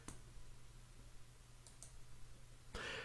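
Faint, sparse computer mouse clicks, a couple of quick taps close together before a louder click-burst near the end, over a low electrical hum in a quiet room.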